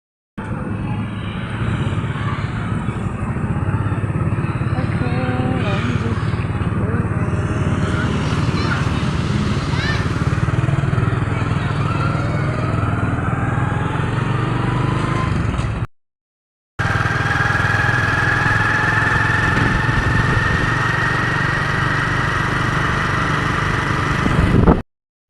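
A motorcycle taxi engine hums steadily throughout a ride home from school, close and continuous, with wind and traffic noise, briefly cutting out once before resuming.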